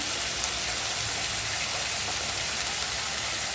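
A fish fries in a pan with a dense, even hiss of sizzling oil, close and unbroken from start to finish, with no voices.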